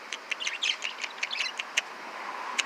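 Pet birds kept outdoors chirp in a quick series of short, bright tweets, close by and clear over a quiet background with no talking.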